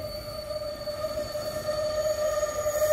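An SD70 diesel locomotive hauling a train on the Serra do Mar rail line, a steady close engine drone with a strong sustained whine and continuous rumble that builds slightly louder over three seconds, no voices.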